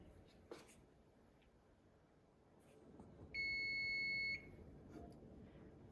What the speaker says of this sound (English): So the timer is off.